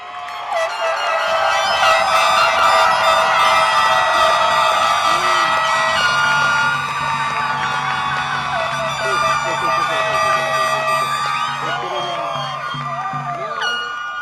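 Graduation audience at a high school ceremony cheering and whooping in a sustained crowd roar, with whistles and shouts rising over steady clapping throughout, loud and close.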